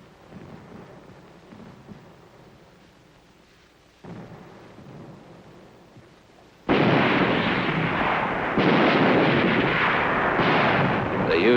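Heavy guns fired by tanks pressed into service as an artillery battery in Korea, 1951: rumbling low booms at first, then a sudden sustained roar of loud, dense firing that carries through to the end.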